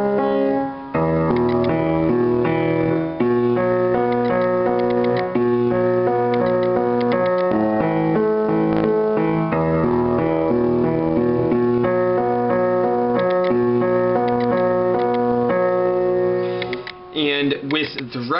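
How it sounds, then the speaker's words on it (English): Piano chords in a song tutorial, broken into open notes as a steady flowing pattern of sustained tones. They play alone and clearly for about eighteen seconds, then stop near the end. "you are still breaking down the chords into their open notes"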